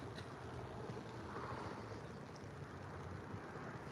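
A hire boat motors down the river, a low droning hum mixed with wind buffeting the microphone and faint water wash, heard from a moderate distance.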